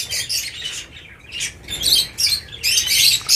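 Lovebirds in a breeding nest give shrill, close chirps and squawks in repeated bursts with short pauses, with no speech.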